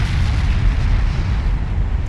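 Naval artillery booms in the video game Ultimate Admiral Dreadnoughts, a loud continuous low rumble of heavy gunfire that fills the whole short stretch, up close and with no pauses.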